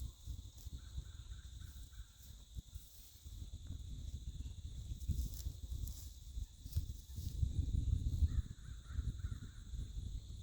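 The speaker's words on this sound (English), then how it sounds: "There's a crazy sounding bird in the tree right now." Harsh, crow-like cawing from a bird perched in a tree, a couple of short call bursts standing out over a busy outdoor background with insect-like buzzing and low rumble.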